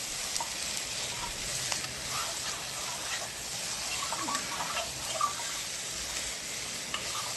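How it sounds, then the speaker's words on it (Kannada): Eggs fry for an egg curry in a pan with a steady, close sizzle and crackle, broken now and then by faint stirring scrapes. "ಮೊಟ್ಟೆ ಸ್ವಲ್ಪ ಚೆನ್ನಾಗಿ ಫ್ರೈ ಆಗಲಿ ಇದರಲ್ಲಿ"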